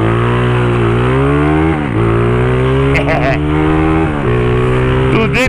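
A motorcycle with a new wheel pulls away, its engine revving loud and close in rising pitch sweeps that drop between gear changes, while a person talks over it.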